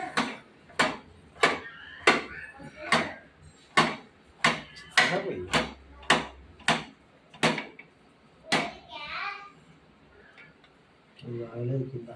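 A knife chops through banana on a cutting board in about a dozen crisp, evenly spaced knocks, close and clear, ending with a short pause and a faint trailing sound.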